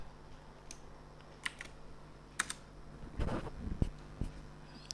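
Keys being typed on a computer keyboard in a quiet room, with faint, scattered clicks and a few slightly louder taps at an irregular pace.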